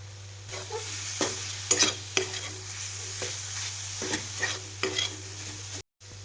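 Coconut and jaggery modak filling is stirred in a pan, giving a steady series of scraping, clattering stirs over a faint sizzle, moderately close, with no talking.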